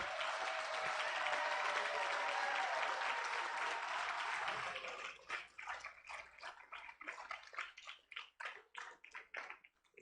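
A conference audience in a hall applauds the Uganda delegation: dense, loud clapping for several seconds, then thinning into scattered individual claps as it dies away.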